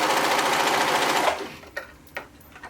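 A sewing machine stitches elastic onto knit fabric in a fast, loud, continuous whir for over a second, then stops and leaves two or three faint clicks.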